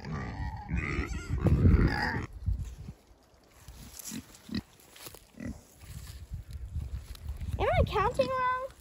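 Kunekune pigs on a farm grunt and snort in short low bursts close by, mixed with a person talking and a few squeals near the end.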